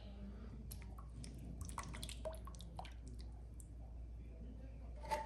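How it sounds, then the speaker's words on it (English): Canned tomato sauce is poured over chicken flank pieces, making faint, wet drips and soft squishy clicks, quiet and close, with little else around. "I am going to pour a can of just tomato sauce."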